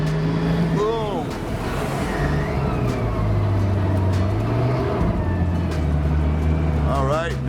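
A German Amphicar amphibious car drives into Grand Lake in Colorado, its engine droning loudly and steadily with water washing around it, while someone talks over the noise.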